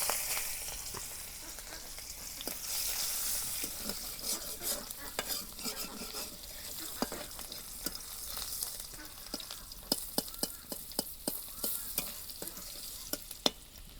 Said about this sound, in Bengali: তেল গরম হয়েছে, পেঁয়াজ কুচি দিয়ে দিলাম।